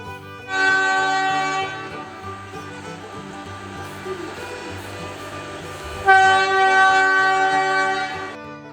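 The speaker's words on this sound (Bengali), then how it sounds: "ট্রেন আমাদের পেছনে আসছে" Darjeeling Himalayan toy train on its route toward Darjeeling, a loud horn blast at the start and another near the end, with the rumble of the passing train running steadily between them.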